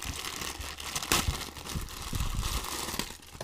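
Plastic packaging around a Condor OD double airsoft grenade pouch crinkles and tears steadily up close, with rustling that swells and fades over a few seconds.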